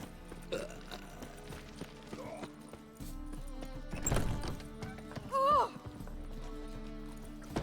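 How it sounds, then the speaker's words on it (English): A person lets out a single low burp midway through, layered over Witcher 3 game audio with horse hooves clip-clopping and ambient music. "Did I burp? I don't even realize I burped."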